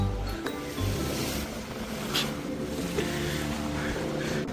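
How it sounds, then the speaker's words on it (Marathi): Sea waves surging at the Devbag confluence point near Tarkarli, Malvan, where the river meets the sea, a steady broad roar of surf with a low rumble throughout, fairly close and continuous with no voices. "त्याच्यामुळे इथं खूप सारे लाटा येतात."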